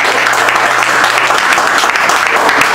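A church congregation breaks into loud, sustained applause, dense clapping that fills the room evenly from start to finish with no voices on top.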